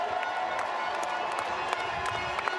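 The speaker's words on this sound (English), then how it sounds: "And there are the fans cheering him on." Fans cheer and clap at a European truck race at the Hungaroring circuit, a moderate, distant crowd roar with scattered clapping and shouts, steady throughout.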